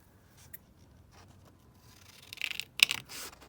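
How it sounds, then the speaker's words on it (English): Scissors cutting paper for a junk journal pocket, faint snips and crisp rustles building toward a few louder, sharper cuts near the end. "So I'm just going to cut this one down"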